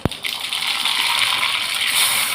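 Mustard seeds hit hot oil in a kadai with a sharp initial clatter, then a steady bright sizzle and crackle that keeps going, close and fairly loud.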